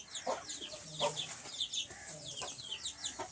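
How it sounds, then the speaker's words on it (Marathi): A hen and a rooster cluck close by in a steady run of short, repeated clucks, with no talking. "ही एक कोंबडी आहे आमची, हा एक कोंबडा आहे, बघू शकता"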